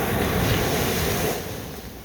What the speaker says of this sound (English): The sound of waves against the shoreline has become synonymous with island life